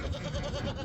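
A goat gives a short, wavering bleat close by, repeated pulses in one quick call.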